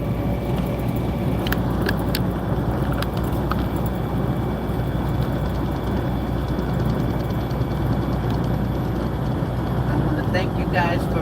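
Interior road noise from a car driving in the early morning, a steady, dense low rumble throughout with a few faint clicks near the end.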